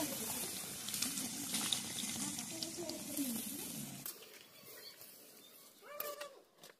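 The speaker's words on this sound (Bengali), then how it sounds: "এবার আমি জল দিয়ে দেবো।" Water is poured into a pan of fish and taro curry made with home pond fish, a steady splashing gush for about four seconds. Then it stops, leaving faint sizzling and a few light clinks.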